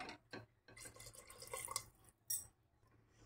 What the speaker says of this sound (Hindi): तो तकरीबन एक कप पानी ऐड कर देंगे हम